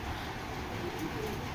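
Soft, low cooing of a racing pigeon kept in a loft, faint and continuous over a short stretch, heard alone with no voices.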